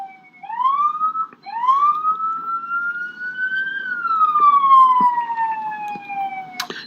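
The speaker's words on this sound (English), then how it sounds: "The officer will continue to follow the vehicle, intermittently turning the siren on" A Fargo police car siren sounds in close, loud, rising and falling wails, switched on in a short whoop, cut off, then sounding again in one long sweep that slowly drops, with faint road noise underneath.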